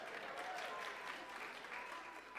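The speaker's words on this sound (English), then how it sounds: "even Beckett's clapping for that right back there" Audience applause at a talk at Pitt in Oakland, a steady broadband patter of many hands sustained evenly throughout at moderate distance, with no voices standing out.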